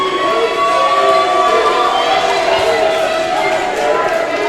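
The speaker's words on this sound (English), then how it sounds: "As we can hear everybody here at the World Gym Arena cheering for Gigi Ray." A wrestling crowd at the World Gym Arena in Houston, Texas cheers during an NWA Women's World Championship match, a loud, sustained roar of voices and shouting with tonal calls running through it.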